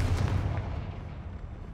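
A Confringo fire spell exploding in the video game Hogwarts Legacy: a single loud, booming blast whose rumble fades away over about two seconds, with no voices.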